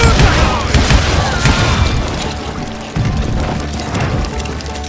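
Gunfight in the western shooter Call of Juarez: Gunslinger, with dense, loud bursts of gunshots and booming impacts layered over music and game noise throughout, and a sharp jolt partway through.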